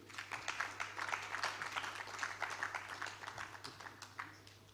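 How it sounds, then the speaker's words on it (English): An audience at the Abuja International Housing Show applauds a company director being introduced, with steady clapping that is faint and distant and fills the whole stretch, with a low steady hum underneath. "Please, a round of applause for him."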